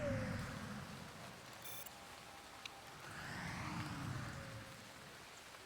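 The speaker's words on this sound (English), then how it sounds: "Starting to rain now." Steady rain hiss falling in the Motorsport Manager racing game, a broad continuous wash with a faint electronic blip midway and no voices.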